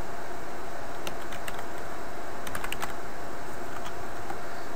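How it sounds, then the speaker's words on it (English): Light keyboard typing on a computer keyboard while configuring a Cisco 3850 switch, a few scattered clusters of keystrokes over a steady loud hiss of fan or room noise. "now I'm gonna type"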